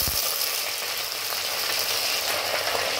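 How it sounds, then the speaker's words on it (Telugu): Spices and onion pieces frying in a pot of oil for chicken biryani, a steady close hiss and sizzle with no talking. "మంచి వాసన వచ్చేదాకా వేయించుకోవాలి"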